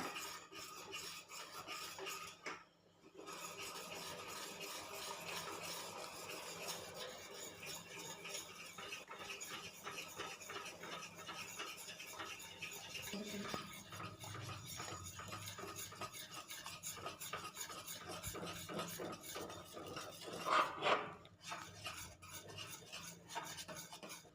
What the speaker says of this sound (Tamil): சேர்த்துக்கிட்டு கைவிடாமல் நல்லா கலந்து விட்டுக்கோங்க